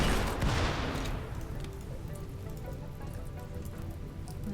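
Rainfall in the video game Rimworld, a steady patter of raindrops forming a faint, continuous hiss, slightly louder at the start before evening out.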